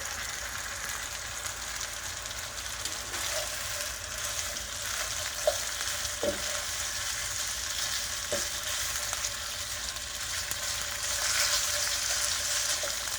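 Chicken pieces for lo mein sizzle steadily in a hot frying pan, a constant bright crackle with a few faint clicks of stirring.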